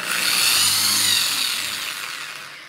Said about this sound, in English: squeeze the trigger slowly until the drill bit starts to spin